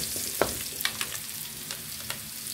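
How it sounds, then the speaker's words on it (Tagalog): Garlic sautéing in hot oil, a steady crackling sizzle broken by a few sharp clacks of a utensil stirring the pan. "Gigisa tayo ng bawang. Dito na tayo mag-gisa sa pinag-prito ko ng liampo."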